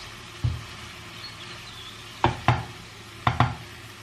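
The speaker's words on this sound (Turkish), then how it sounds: "Şimdi devam edeceğim arkadaşlar. İyice kavuracağım." Eggplant filling being stirred and sautéed in a pan: a faint steady sizzle with a handful of sharp spoon knocks against the pan, one early and then clustered pairs, close and without talk.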